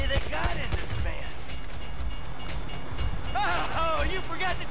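A train from Grand Theft Auto V rumbles past in a steady, loud wash of rail noise with a horn-like tonal blare near the end, amid gameplay sounds.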